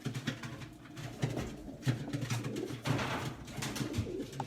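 Racing pigeons coo steadily in a stock loft, low throaty calls repeating and overlapping close by under a busy background of wingbeats and shuffling.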